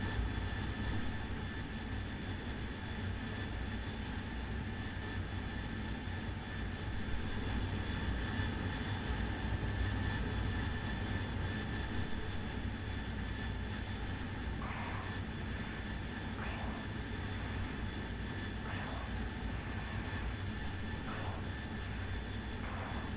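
Harrier jet in flight in the combat flight simulator DCS World, a steady, loud roaring engine drone that holds constant for over twenty seconds, with faint intermittent cockpit tones partway through.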